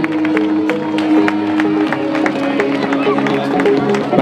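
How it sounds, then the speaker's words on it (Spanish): A crowd at a rural country race claps and cheers for arriving runners, with scattered sharp claps and steady chatter under a nearby announcer's voice. "¡Un aplauso para los que van llegando!"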